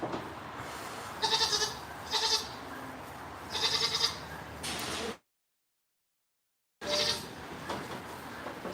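Boer goats and dairy goats bleat in a barn pen, several loud, wavering calls in quick succession near the listener, with a brief gap of silence before one more bleat.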